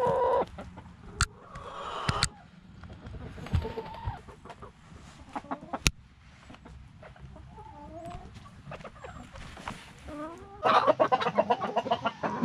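Backyard homestead chickens clucking and murmuring near and far, with scattered sharper squawks and a louder burst of cackling toward the end.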